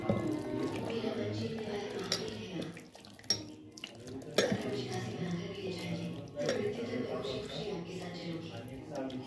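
Masala ingredients with mutton are stirred together in a pot, giving wet squelching and scraping sounds, close and continuous, with a person talking over them.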